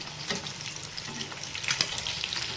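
Fish fry masala is stirred in a pan, a soft sizzle with quick scraping strokes and a few sharper clicks toward the end, fairly quiet and close, with no voices.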